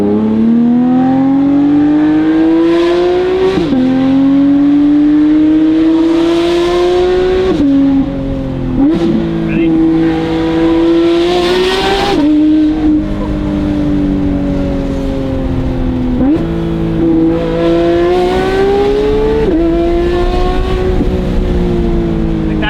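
Porsche 992 GT3 RS flat-six with titanium race exhaust and free-flow headers revving hard on the road, its pure high-pitched wail rising through repeated gear changes, loud and close for over twenty seconds.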